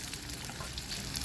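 Onion fries in a pan over a wood-fired stove cooking on a rooftop, an even, close sizzling hiss that holds steady throughout without any voices.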